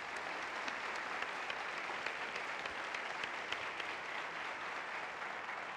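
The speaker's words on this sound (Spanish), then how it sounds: "Un aplauso para Paola Risco." Steady applause from a studio audience at a Colombian TV comedy show, a dense even patter of clapping held for several seconds at moderate, fairly distant level with no voices on top.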